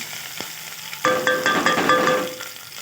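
Onion, coriander and green chillies dropped into hot oil, quiet at first, then a sudden loud sizzling burst with repeated stirring scrapes and ringing pan contact up close.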